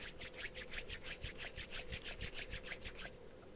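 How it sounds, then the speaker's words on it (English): Palms rubbed briskly together in a steady, even rhythm of about a dozen dry swishing strokes, close and quiet, with no voices. "They're asking us to rub our hands together."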